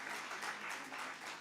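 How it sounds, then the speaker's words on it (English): A conference audience at an international gathering of women birders gives a short round of applause for a speaker. The clapping is faint and distant, a soft, even patter that fades slightly near the end. "Let's give Herbert a big, big hand clap."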